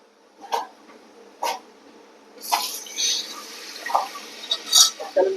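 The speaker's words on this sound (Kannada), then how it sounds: "ಅದಕ್ಕೆ ಸ್ವಲ್ಪ ನಾನು ಹುಣಸೆಹಣ್ಣು ರಸ ಹಾಕೋತೀನಿ." Tamarind juice is poured into a pot of sambar in a home kitchen, making short splashing, trickling bursts of liquid in a few separate pours, fairly close, with faint voices in the background.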